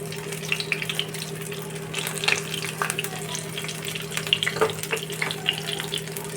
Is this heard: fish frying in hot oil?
yes